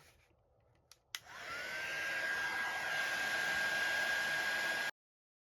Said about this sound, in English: I am going to let that dry naturally now because I have pushed it with the heat gun